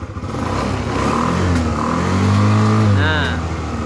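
A carbureted Yamaha Xeon motorcycle engine revs up and holds a loud, rising drone, with someone talking over it.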